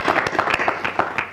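Brief audience applause at the launch of the 2019 Economic Report on Africa, heard as a handful of distinct, close claps in a loose rhythm.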